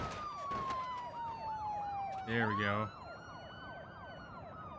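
Police car sirens in the BeamNG video game wail in repeating sweeps, with a loud honk-like burst midway and someone speaking briefly over them.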